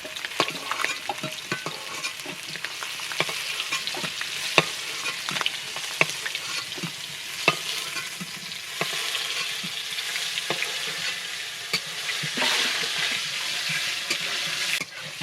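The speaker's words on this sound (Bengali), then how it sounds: "আর এই ডিমের মধ্যেই আমি এই আমড়াগুলো এই তেলের মধ্যে দিয়ে ভেজে নেবো" Hog plums (amra) fry in hot oil in a rural kitchen, with a continuous crackling sizzle and frequent sharp clicks and scrapes of a utensil against the pan, growing louder toward the end.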